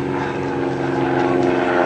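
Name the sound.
aircraft flying in on an attack run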